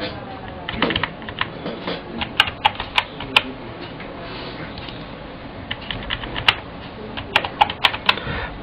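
Someone types a new password on a computer keyboard, with uneven runs of close keystrokes and a few sharper, louder clicks over a quiet room background.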